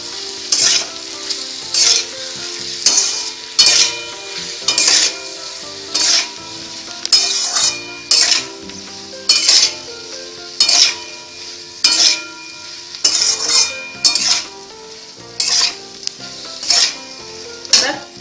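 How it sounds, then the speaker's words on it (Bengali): Chopped boiled eggs are stirred into sizzling spices in a pan, a constant frying hiss broken by roughly twenty rhythmic scraping strokes of a utensil against the metal, close and fairly loud. "এবার আমি কুচনো ডিমগুলো এর মধ্যে দিয়ে দেবো। সমস্ত মশলার সঙ্গে এটাকে মাখিয়ে নেবো।"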